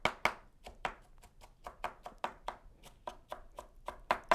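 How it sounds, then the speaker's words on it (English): A knife chops food on a cutting board for pancakes, with a steady run of sharp, close, quiet knocks about four per second and no talking. "So now I just spread them like that and go and chop."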